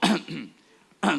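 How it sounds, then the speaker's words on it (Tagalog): A man coughs and clears his throat in a short, close burst, with two loud harsh bursts framing a quieter raspy rumble. "inuubo ako"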